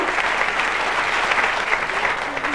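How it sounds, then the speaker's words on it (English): Studio audience applause on a TV game show, loud and sustained across the whole stretch, a dense crowd of clapping hands with no one speaking over it. "please keep the applause going"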